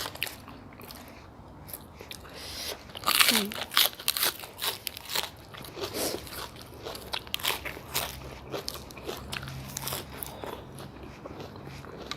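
Crisp fresh vegetables are bitten and chewed alongside pork noodle soup with fried garlic, giving a run of close crunches and crackles, loudest early on, with a voice murmuring faintly underneath.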